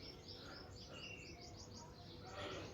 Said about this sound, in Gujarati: ચકલીમાં માળા બનાવવાની તૈયારી કરે છે.